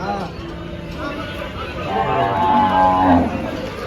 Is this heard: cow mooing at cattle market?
yes